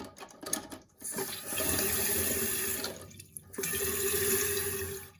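Water rushes steadily into a toilet tank as it refills after adjustment of the fill valve, a loud continuous hiss with a brief dip partway through before the flow resumes.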